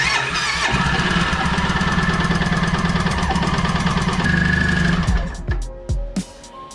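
A Suzuki Burgman 650 Executive scooter engine runs with a steady, buzzing idle and fast mechanical ticking for about five seconds, then cuts off, leaving a few scattered clunks and knocks.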